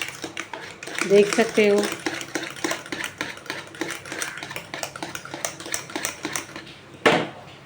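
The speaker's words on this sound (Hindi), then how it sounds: "जितना फेंटेंगे दही बल्ले अच्छे बनेंगे। दाल को फेंटने का, घुमा घुमा के।" Urad dal batter for dahi bhalle is beaten by hand in a bowl, giving a quick run of clicking, tapping strokes against the vessel, fairly soft and close, with someone talking briefly over it.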